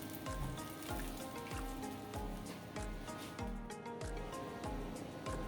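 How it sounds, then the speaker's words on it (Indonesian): Water boiling vigorously in a pan while a chicken galantine sauce is prepared, a dense, steady bubbling and sizzling that continues without pause, close and fairly loud. "Nah ini airnya mendidih ya teman-teman."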